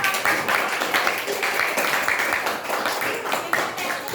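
Classroom applause from students during a lesson, a brisk patter of many hands clapping at moderate loudness while someone keeps talking over it.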